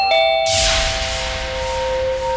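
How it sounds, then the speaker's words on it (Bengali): An electric calling bell rings loudly indoors, its bright chime starting abruptly and holding a steady sustained tone with no voices. "তারপর হঠাৎ করে কলিং বেল বাজলো।"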